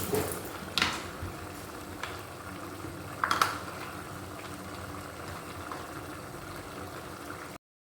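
Water at a gentle boil in a pot for vegetable dum biryani rice, with salt, mint, coriander, cinnamon and cloves added; a soft continuous bubbling hiss with a few brief clinks and splashes, no voices.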